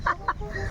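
A chicken lets out two quick, close clucks, followed by a faint low background murmur.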